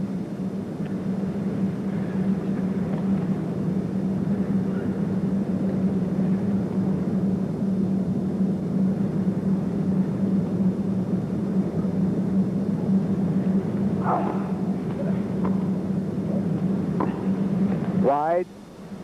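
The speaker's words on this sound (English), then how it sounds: "It's our fans in the roof here." Roof fans in an indoor tennis arena at a 1982 professional final drone steadily throughout, a constant low hum with faint court and crowd sounds above it.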